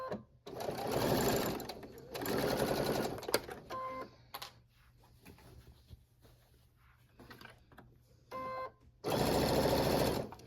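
A sewing machine stitches a pillowcase seam, running in several bursts of steady motor whir with short pauses and back-stitching between runs, a few quiet clicks and handling sounds in the gaps.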